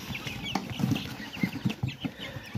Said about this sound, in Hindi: माशाल्लाह बड़े चिक्स हैं ये, प्योर इंडोनेशियन ब्लैक टंग के।